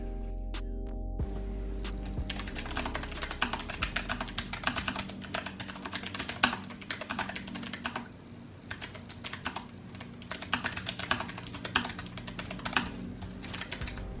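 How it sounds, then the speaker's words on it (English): Rapid clicking keystrokes on a clicky Logitech mechanical keyboard, continuous and close, over a low steady hum. "It's a clicky keyboard."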